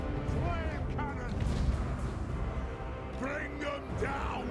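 Flame cannon firing in a Warhammer battle game, booming artillery blasts under shouted battle cries and in-game voices, with a heavy rumbling low end through the clip.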